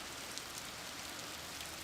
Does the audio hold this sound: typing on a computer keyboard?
no